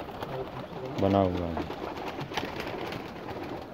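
Pigeons kept as breeding pairs in a loft setup coo in soft, throaty rolling calls, one close coo standing out near the start while someone talks over the birds.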